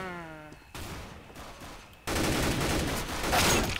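Gunfire in Counter-Strike: Global Offensive: after a quiet opening with a faint tonal sound, loud broadband bursts begin and then grow denser and heavier in the second half, pointing to sustained shooting close by.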